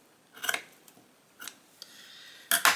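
Scissors snip through craft material in three separate bursts of crisp cuts, close and fairly loud, with a faint rustle between them and no talking.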